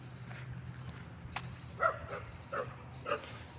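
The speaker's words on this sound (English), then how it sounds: "Oh, and there goes the dogs again." Dogs barking at a distance in a neighbourhood, a few faint separate barks spaced about half a second apart over a steady low air-conditioning hum.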